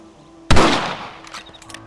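A single rifle shot rings out in Red Dead Redemption, one sharp loud crack with a short echoing tail that fades away, followed by faint rustling.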